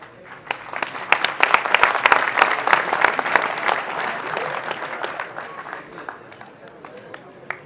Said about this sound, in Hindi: उनका स्वागत आपकी तालियां